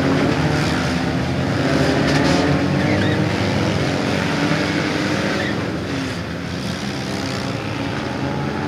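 Several cars launch together at the start of a skid plate race during a night demolition-style event, engines roaring loud and continuous across the whole stretch with no talk over them.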